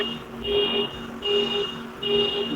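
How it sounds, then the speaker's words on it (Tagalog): A parked car's alarm sounds in three repeated high-pitched tonal bursts at a steady rhythm, moderately loud against a low background rumble. "Opo, sir, nag-alarm po yung sasakyan."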